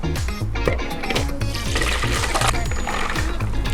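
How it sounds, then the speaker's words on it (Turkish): Water drains and splashes as soaked almonds are strained in a kitchen, a continuous loud rushing pour with faint clinks mixed in, close by and without speech. "Şimdi bademi süzerek başlayalım."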